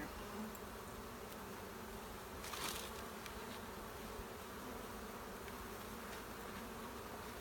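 Honey bees buzzing around an open hive during smoking and removal of burr comb, a dense continuous drone close by with a brief louder pass of a single bee, no voices.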